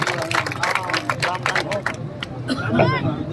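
Scattered clapping from a crowd at a village panchayat meeting welcoming a speaker, uneven hand claps mixed with murmuring voices and chatter close by.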